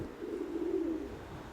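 A single low, drawn-out coo from a pigeon in a loft rises and fades, close by and alone without any talking.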